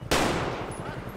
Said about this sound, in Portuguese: Ó o tiro!